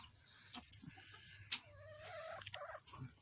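Chickens cluck and chatter in a backyard flock, several short calls scattered over low barnyard ambience, fairly close and moderate in level.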